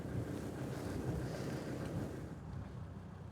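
Steady wind buffets the microphone in a low, rumbling outdoor roar with no voices, fading a little toward the end.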